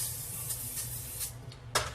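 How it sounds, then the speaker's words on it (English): Cooking spray hissing from a can onto a cold pan, several short close bursts with a stronger spray near the end, over a low steady kitchen hum. "I got my little cooking spray here"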